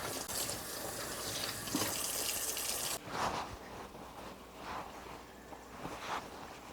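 Tap water runs into a sink while hands are washed before canning pickles, a steady close gush for about three seconds that then drops to softer, intermittent splashing as the hands move under the stream. No one speaks.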